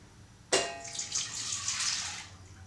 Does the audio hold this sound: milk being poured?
yes